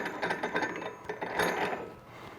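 Quick ratcheting clicks and mechanical rattling from a ratchet tool cranking down a clamp with spacer on a Ski-Doo clutch during a P-Drive and QRS clutch kit install, close up in a short continuous burst.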